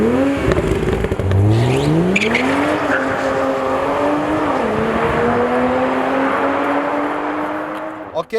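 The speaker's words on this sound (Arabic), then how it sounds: "السيارة عم تعطيني شوية درفت." A 2020 Toyota Supra GR with a 335 hp engine drifts on a race track at Dubai Autodrome, its engine droning loudly and steadily with rising and falling pitch as the tires squeal, close and continuous throughout.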